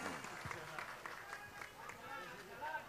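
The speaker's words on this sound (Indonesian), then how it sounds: "Tepuk tangan untuk Mas Tom Liwafa" Stage crowd applauding Mas Tom Liwafa at an evening show, steady dense clapping mixed with crowd noise and voices, moderately loud throughout.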